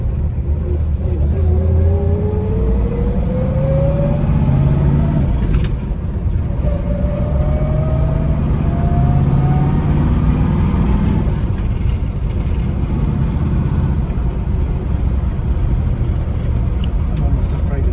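A restored 1971 Pontiac Trans Am with a 455HO engine and four-speed rock crusher transmission, steady loud engine drone with a rising transmission whine while driving, people talking over it.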